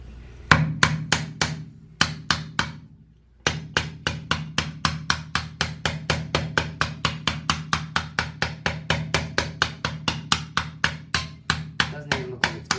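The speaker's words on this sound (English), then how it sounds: "So I think it did say to use a rubber hammer." A rubber hammer taps on a new toilet during installation, dozens of sharp, evenly spaced knocks after a few early pauses, loud and close.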